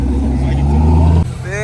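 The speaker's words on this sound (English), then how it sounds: "Damn, we got some diesels pulling up." Heavy diesel trucks pull up at a truck and coffee meet, their deep engine rumble steady and loud before cutting back, with a voice speaking over the top.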